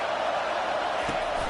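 Stadium crowd noise in a college football video game on third down, a brief swelling roar of cheering fans with some faint shouts.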